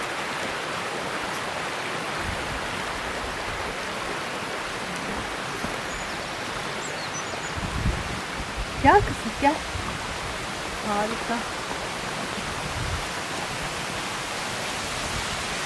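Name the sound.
forest creek waterfall flowing between rocks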